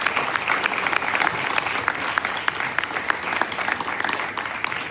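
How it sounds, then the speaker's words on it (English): An audience at a school sixth form leadership summit claps steadily, a dense, sustained round of applause from a sizeable crowd lasting the whole five seconds, without voices. "Give them a big round of applause."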